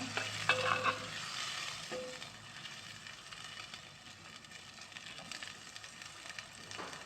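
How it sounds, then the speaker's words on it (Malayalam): Lemon pickle with vinegar and water is stirred in a hot pan, Kerala style, giving a bubbling sizzle with a few louder scraping strokes near the start, close and with no voices. "ഇനി ഒന്ന് ഇളക്കി യോജിപ്പിക്കാം."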